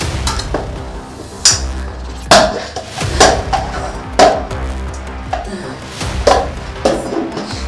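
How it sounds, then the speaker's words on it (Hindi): A body being chopped into pieces, heard as sharp, heavy chops landing one by one at uneven intervals, loud and close, over a low background hum. "फटाफट इस लाश के टुकड़े टुकड़े कर दो। आराम से काटना"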